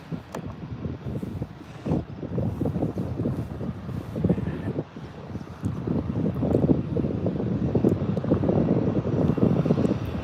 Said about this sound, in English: the A320 engine's just powering up